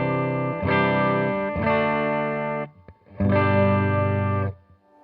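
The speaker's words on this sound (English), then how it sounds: "we're going to start on the bridge pickup, which is a humbucker, and we're just going to play it clean" Thinline Telecaster-style Gear-IT guitar on its bridge humbucker through a clean amp, three loud strummed chords ringing out in succession with a short pause before the last, no talking.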